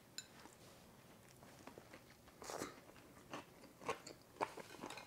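Someone bites into a crunchy Dutch beef croquette in soft bread, with several close, crisp crunches and chewing that grow louder toward the end in a quiet room.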